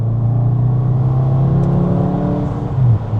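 A Volkswagen Jetta GLI mk6 sedan accelerates with a loud, close engine drone from inside the cabin. The pitch rises steadily, then the revs shift near the end.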